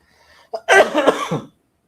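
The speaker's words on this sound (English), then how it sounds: "This cough won't go away." A single harsh, rough cough bursts out after a brief quiet moment, lasting under a second before silence returns.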